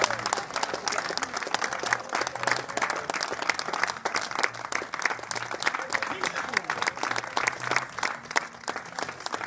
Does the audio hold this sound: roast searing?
no